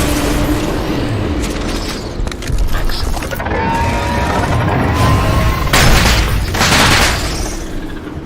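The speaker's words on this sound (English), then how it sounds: "You hear them rounds just whacking off it." Incendiary rounds slam into a target in the Crysis Remastered shooter game, a dense run of loud booming impacts and bursts with rolling low rumble that swells and recedes over several seconds, with no voice.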